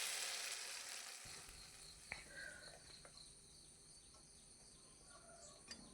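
Muskmelon paste sizzles in hot ghee, a soft steady hiss with a few faint pops and scrapes, quiet and close with no talking.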